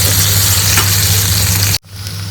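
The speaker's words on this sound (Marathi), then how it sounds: "शिमला मिरची ॲड केली आम्ही आणि पण छान आता ती परतून घ्यायची" Onion and capsicum sautéing in a pan for a homemade stovetop pizza topping give off a steady, close sizzle that is cut off abruptly near the end, with no talking.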